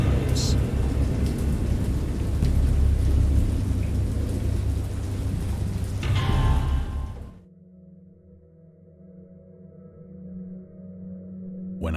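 Heavy rain pours in a video game thunderstorm, a dense hiss with a rumbling crack of thunder, then cuts abruptly to a quieter low drone with faint rain.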